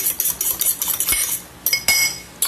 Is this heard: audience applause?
no